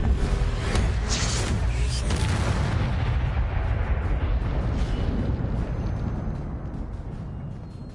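A fire spell cast in Hogwarts Legacy on PS5 erupts as a loud, sustained roaring burst that fills the whole stretch before slowly tapering near the end, with no voice over it.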